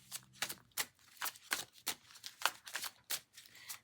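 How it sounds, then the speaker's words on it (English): A deck of cards is shuffled up close in a quiet room: about a dozen quick, crisp riffling bursts in steady succession, with no voices. "Let me give this some shuffles."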